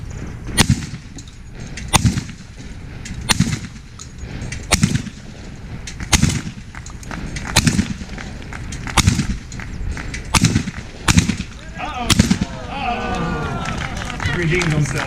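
Shotgun blasts ring out at moving clay targets during a shooting demonstration, about a dozen sharp reports fired at a steady pace, roughly one every second or so, with voices talking between and after the shots.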